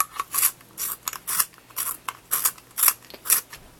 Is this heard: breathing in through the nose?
no